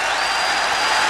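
A Wembley Stadium crowd roars after an England goal in the 1966 World Cup Final against West Germany, a dense, steady wall of cheering that holds at a high level throughout.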